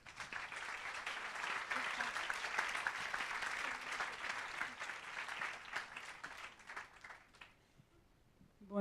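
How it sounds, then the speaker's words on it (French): Audience at a French-language fundraising seminar breaks into sustained, dense applause filling most of the stretch, then thinning and fading near the end. "Mesdames et messieurs, sous vos applaudissements"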